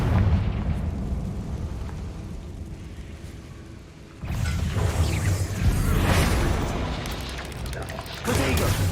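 A Confringo fire spell bursts in the video game Hogwarts Legacy: a loud, rumbling explosion blooms partway through, followed later by another heavy boom, over dense background rumble.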